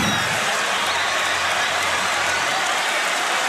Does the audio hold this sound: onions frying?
no